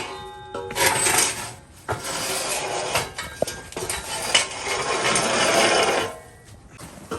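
Ratchet or hand tools clicking and clanking against metal while bolts are removed from a car exhaust pipe, a continuous close metallic rattle with a few sharp knocks, no talking.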